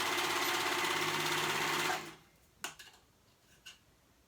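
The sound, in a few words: sewing machine sewing a band's short edge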